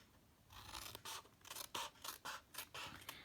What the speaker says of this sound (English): Then you turn, cut right up to the second score line.